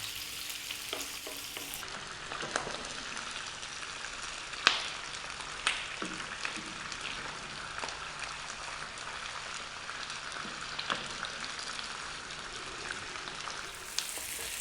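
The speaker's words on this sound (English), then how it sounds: "So just getting a little bit of colour here on the onions" Onions sizzling in a pan over above-medium heat while cooking a potato chickpea curry, a soft steady frying hiss with occasional clicks and scrapes from stirring, no talking.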